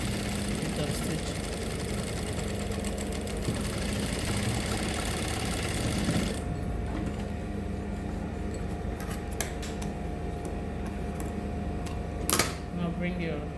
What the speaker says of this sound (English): then you top stitch just to hold it in place